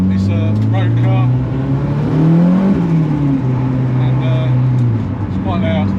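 A loud road-registered Ford Fiesta with a turbocharged K24 engine drives along, its engine droning steadily and rising and falling in pitch throughout, close and dominant with possible talk underneath.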